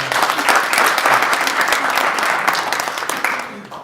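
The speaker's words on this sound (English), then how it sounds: "Have a round of applause for Adrian." A live audience breaks into a short round of applause, dense overlapping clapping that starts strong and gradually thins and fades over a few seconds.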